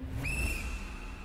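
A whistle blown as a signal during an indoor party game, one sharp rising blast settling into a steady tone that holds for about a second over low room rumble.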